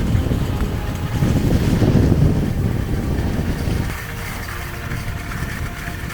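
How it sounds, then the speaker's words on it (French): Strong wind gusting across a mountain slope during a ski-touring descent at the end of the day, a loud, continuous low roar buffeting close by, easing slightly in the last seconds. "Il y a encore un peu de vent"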